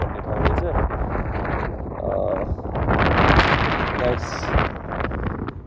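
Strong mountain wind in Humla, in Nepal's high Himalaya, buffets the microphone with a loud, rumbling roar that swells and eases in gusts.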